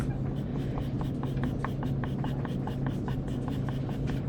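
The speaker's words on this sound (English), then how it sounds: "The charcoal pencil is excellent for details." Charcoal pencil scratching across paper in a steady run of short drawing strokes, close and fairly loud over a low background hum, with no talking.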